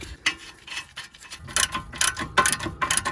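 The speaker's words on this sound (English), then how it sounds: "From here, I'll hand tighten the 18mm nuts." Nuts being threaded by hand onto strut bolts during a front strut replacement on a 2012-2018 Chevy Malibu or Impala, giving close, faint metallic clicks and ticks in an irregular series with no talk.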